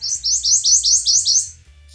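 A gnatcatcher at its nest sings a fast series of seven bright, rising notes, close and clear, mimicking a prothonotary warbler's song.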